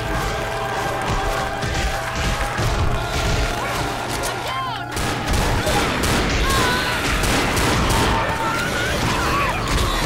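Left 4 Dead video game gunfire crackles in dense repeated shots under a busy mix of game noise, with a player talking throughout.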